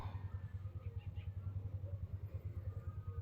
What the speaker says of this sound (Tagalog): mayroong boses ng motor